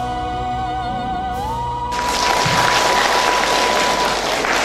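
Audience applause after a neighbourhood residents' group dance performance at a Vietnamese community festival, starting a couple of seconds in and swelling into steady, dense clapping over a sustained tone.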